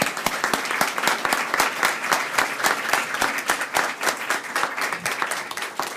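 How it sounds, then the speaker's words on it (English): Sustained applause from an audience at a press event honoring patient advocates, dense steady clapping filling the room for the whole stretch with no pause. "another round of applause for our patient advocates."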